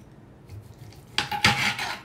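Knife slicing across a smoked corned beef point cut, giving a few short scraping and clattering contacts with a cutting board, close and moderately loud, with a couple of sharper strokes near the end.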